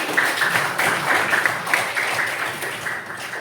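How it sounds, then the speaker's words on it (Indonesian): Students in a religious education class break into steady, close applause that runs throughout, with a faint voice underneath. "tepuk tangan buat kalian semua"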